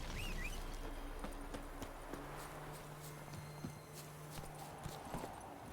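Roach, a horse in The Witcher 3 video game, walks with clip-clopping hooves, a steady rhythm of distinct hoofbeats over soft ambient game sound, with a faint bird call early on.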